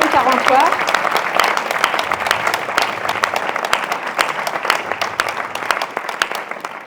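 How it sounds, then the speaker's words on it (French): At a public meeting about the public hospital in Redon, the audience applauds the hospital staff: a loud, sustained burst of many hands with sharp individual claps standing out, slowly thinning toward the end after a brief voice at the start. "j'aimerais qu'on applaudisse tout le personnel qui travaille à l'hôpital de Redon"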